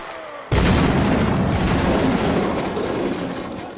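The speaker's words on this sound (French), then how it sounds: "Je vais balancer grenade." A grenade in a Mount & Blade battle goes off with one sudden loud boom after a short quiet lead-in, then rolls into a long rumbling decay.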